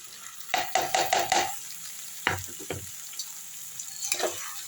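Ground masala tipped into frying brinjal in a pan for kara kuzhambu: a quick run of clattering scrapes, a pause, then a few more knocks against the pan over a low sizzle, with no talking.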